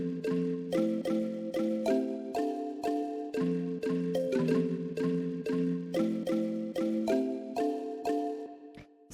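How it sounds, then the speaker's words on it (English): A sampled kalimba plays a simple repeating pattern of major and minor chords, with bright plucked notes in an even, steady rhythm that rings clearly on its own for several bars. "So this is just like a pretty simple sampled kalimba"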